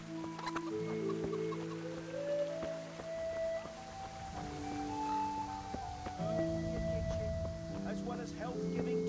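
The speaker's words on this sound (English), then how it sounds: "Could kill these chickens, get my strength up a little bit." Chickens cluck amid a medieval village soundscape in Kingdom Come: Deliverance, their calls scattered and fairly close over steady ambient noise and music-like tones, continuing through the clip.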